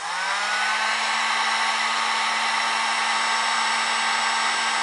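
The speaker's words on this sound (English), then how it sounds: "heat gun here." Heat gun blowing steadily on double-wall adhesive heat-shrink tubing over a wire connection, a close, loud, even whirring hiss with a faint hum underneath, running alone without talk.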